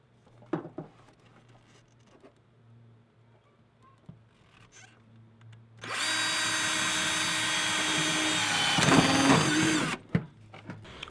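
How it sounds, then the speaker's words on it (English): A power drill bores a pilot hole through the firewall of a Chevy Astro van, its loud, steady whir running for about four seconds and then cutting off, preceded and followed by faint handling clicks and clatter. "now that the first little pilot hole is drilled"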